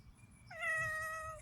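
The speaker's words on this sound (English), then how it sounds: "That's my cat." A single clear cat meow rising into a sustained, slightly falling tone, close and fairly quiet over a low background hum, lasting under a second.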